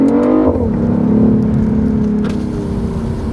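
Engine and road noise from a BMW i8 driving toward a tunnel: a steady, loud cabin drone with a brief shift in engine pitch near the start, then a continuous hum with no talking.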